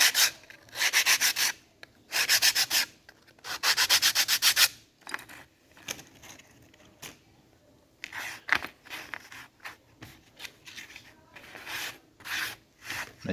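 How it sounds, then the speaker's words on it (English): Oak pieces for a timber hinge are lightly sanded by hand with glass paper, rhythmic back-and-forth rasping strokes in close bursts with pauses between, no talk. "Give your pieces of work a light sanding with some glass paper"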